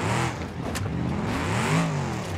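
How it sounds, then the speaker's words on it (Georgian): Mercedes G-Class engine roaring as the SUV drives off, a close, steady revving growl with rising and falling pitch over a couple of seconds. "როგორც ახასიათებს Mercedes-ს მანქანა ბღავის"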